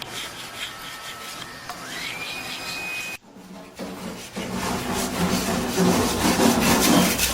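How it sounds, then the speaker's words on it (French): Charred wood on a trestle being scraped to strip off the fragile charcoal layer, giving raspy, continuous rubbing strokes that grow louder and denser toward the end, with a thin whine in the background early on. "Vous êtes en train d'enlever le charbon de bois, c'est ça?"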